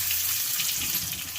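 One large chopped onion frying in hot oil makes a brief, continuous close-up hiss and sizzle with no voices.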